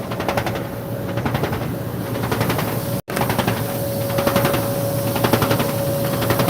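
A machine's paddle smacks against a swaying part in a fast, steady, loud mechanical clatter, rattling continuously with one brief break partway through, close by.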